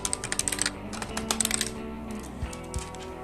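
Rapid keystrokes on a computer keyboard while entering Arduino code for an ultrasonic sensor conditional, a quick burst of clicks, a brief pause, another burst, then two heavier isolated taps, close and fairly quiet.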